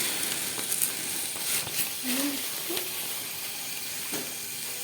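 Vermicelli frying in oil in a pan, the start of vermicelli rice, a soft steady sizzle and hiss with faint stirring scrapes, close and fairly quiet, no voices.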